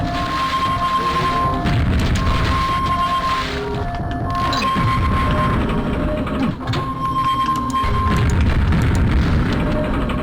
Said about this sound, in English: get grenade launcher. I want to see how good against explosives this guy is.